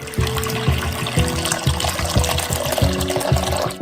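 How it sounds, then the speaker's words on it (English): Two liters of boiling water poured steadily into a pan, a continuous gurgling stream with shifting pitch as the vessel fills, close up and alone. "Pour in 2 liters of boiling water"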